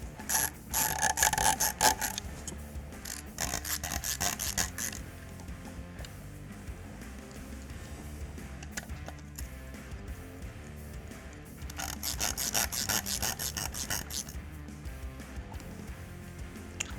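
Rail screws are driven during an FN SCAR NRCH rail installation, making dry ratcheting clicks in rapid bursts. The clicking repeats in two spells with quieter mechanical handling between them, close by.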